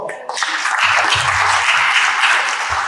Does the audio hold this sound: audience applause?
yes